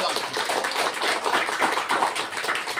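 Church congregation clapping hands during a worship service, a thick continuous patter of many hands at close range, steady throughout with no pause.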